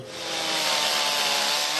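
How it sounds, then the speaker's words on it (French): Chainsaw carving wood at an outdoor sculpture symposium in Foussais, a loud sustained buzzing rasp that ramps up quickly and holds steady, close by and alone. "ils sculptent à la tronçonneuse"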